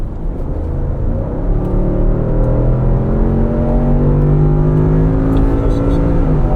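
A Range Rover SV with a BMW S68 4.4-litre twin-turbo V8 accelerates hard. From inside, a steady, loud engine drone climbs smoothly in pitch, with continuous rumble and road noise under it.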